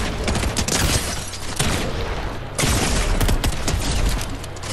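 Loud, continuous gunfire in the Fortnite video game, dense rapid shots crackling almost without pause, with only brief dips in the barrage.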